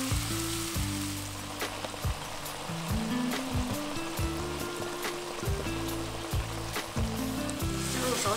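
Sea snails stir-fried in hot oil with scallion, ginger, garlic, soybean paste, Sichuan peppercorns and a splash of beer, giving a steady loud sizzle and crackle throughout, with a low musical tone running underneath.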